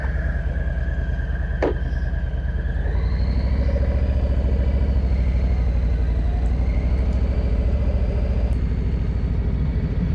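A 2021 Harley-Davidson Street Bob 114 motorcycle engine turns over and settles into a steady, throbbing low idle that rumbles continuously at close range, with no talking.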